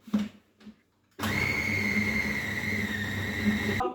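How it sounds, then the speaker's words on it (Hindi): Electric chopper blitzing pitted dates, a steady loud whirring motor drone of about two and a half seconds that starts abruptly and cuts off sharply, preceded by a few light clunks as the dates go in. "इनको मैं डालूँगी चॉपर में, इसमें और इनको करूँगी चॉप।"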